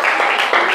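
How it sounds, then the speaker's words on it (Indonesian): Students in a junior high school classroom at SMPN 5 Cilegon clap together in a short, loud, dense burst of applause, heard close with no talking over it. "Tepuk tangan untuk kalian semua."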